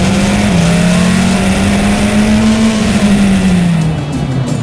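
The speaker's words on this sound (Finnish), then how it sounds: "Tuntumaa kilpa-autojen rajuun voimaan haetaan ensin testiajossa, joka tehdään Formula Renaultlla" A Formula Renault race car on a test run roars loudly from on board, its engine note rising slightly then falling away near the end.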